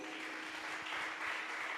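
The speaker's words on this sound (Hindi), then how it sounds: "जोरदार ताली बजाएंगे।" Audience applause at a Christian worship service, a steady dense wash of clapping that holds evenly through the moment with no talk over it.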